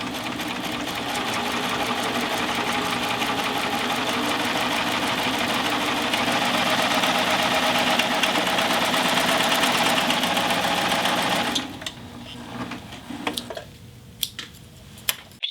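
A Baby Lock Triumph serger runs steadily as it sews a seam, a fast, even mechanical whir that holds for about eleven seconds and then stops, leaving a few faint clicks and handling noises.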